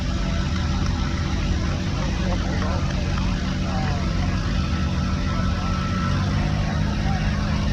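An Allis-Chalmers Model D15 tractor drives past in a threshing-show parade, its engine a steady, loud low rumble with broadband noise running continuously throughout, no distinct gaps, and an announcer's voice in the mix.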